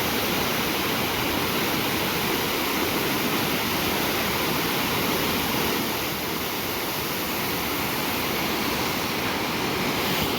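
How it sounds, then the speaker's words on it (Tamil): Water rushes fast over Sathanur dam in a loud, continuous roar of dense white noise, steady and close with no letup. "அவ்வளோ ஸ்பீடாக போயிட்டுருக்கு தண்ணி."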